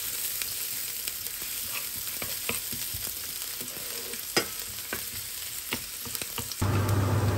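Dough fries in heated oil in a pan, giving a continuous crackling sizzle with scattered pops and utensil taps. Near the end a louder, lower noise takes over.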